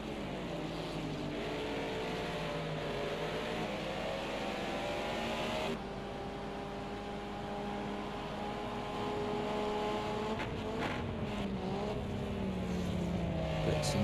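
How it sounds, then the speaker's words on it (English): Two race cars battle for fourth place in a DTM sim racing game at Mugello, engines droning and shifting pitch steadily at close range, with a brief change in tone partway as they continue side by side. "So there's two cars here battling for fourth."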